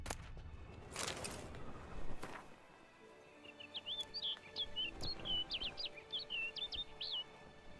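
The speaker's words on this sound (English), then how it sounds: "Looks like the bird's leading me somewhere." A bird in The Witcher 3: Blood and Wine chirps in a quick run of bright, repeated tweets in the second half, following a few louder broadband thumps and rustles, over low game ambience.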